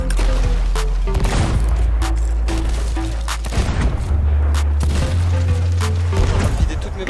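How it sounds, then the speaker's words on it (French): Rapid bursts of gunfire in the Sea of Thieves pirate game, a string of loud sharp shots and crashing impacts over booming game music, with players talking and shouting over the action. "J'ai vidé toutes mes balles sur lui"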